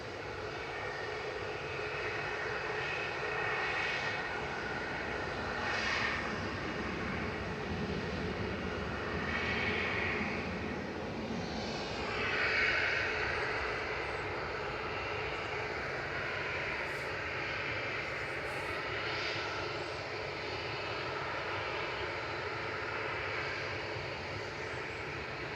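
A Ryanair Boeing 737 MAX 200 jet airliner roars steadily at Manchester Airport as it departs, a broad continuous engine rumble and whine that swells slightly midway and holds for the whole stretch, distant but loud.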